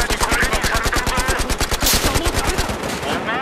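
Rapid fully automatic fire from an AKM rifle in Battlefield Hardline: a loud, close, evenly spaced stream of shots that runs unbroken for over three seconds.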